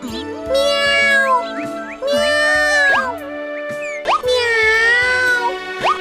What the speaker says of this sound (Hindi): अरे, लगता है बिल्ली यहीं कहीं आसपास है।